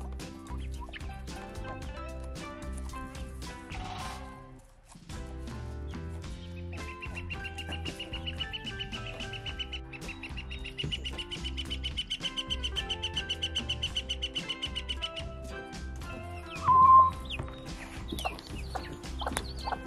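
Backyard chickens cluck in a home garden after being fed. Their calls blend into a steady, layered bed of sound with a brief sharper call near the end, and no one speaks.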